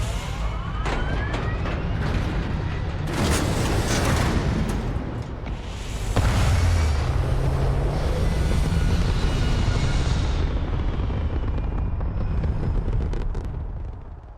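A spaceship lifting off in the video game Starfield, a loud sustained engine roar with rising whines and rumble that swells midway and holds steady before easing off, with no talk over it.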